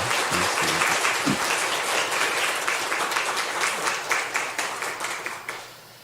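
A church congregation at Sunday worship claps to congratulate an elder, full steady applause that thins toward the end into a few separate claps before fading out.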